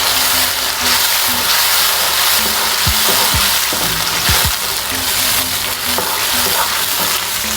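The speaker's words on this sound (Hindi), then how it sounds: "बीफ को 3 से 4 मिनट तक ऑयल में फ्राई करने के बाद हम इसमें जो टमाटर का पेस्ट है वो ऐड कर देते हैं।" Beef pieces sizzling steadily in hot oil in a karahi as tomato paste goes in, a loud continuous fry with a few stirring scrapes and clinks partway through, no talking.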